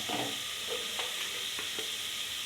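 Sprouted chana masala is stirred and fried in a pan: an even hissing sizzle runs under several distinct scraping strokes of a spoon, close and clear with no talk.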